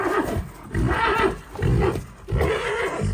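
A pregnant Brabançon (Belgian draft) mare neighs loudly and close by, three long rough whinnies separated by short pauses.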